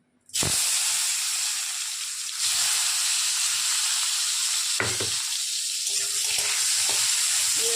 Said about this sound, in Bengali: এবারে তেল গরম হয়ে গেছে কড়াইতে, পটলগুলো আমি ছেড়ে দিচ্ছি